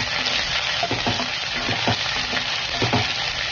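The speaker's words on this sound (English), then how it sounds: "now we will put chopped onion to fry" Chopped onion frying in a pan for a minty soya taco: a steady dense sizzle held close and loud throughout, with a few soft stirring scrapes and no talking.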